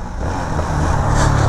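A loud, close Yamaha XT660 motorcycle engine drones and builds steadily in a brief burst, a rough motor revving with no speech.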